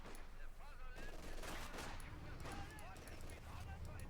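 Machine-gun bursts and scattered gunfire from Company of Heroes 2 rattle amid battle noise, moderately distant and layered under a voice talking throughout.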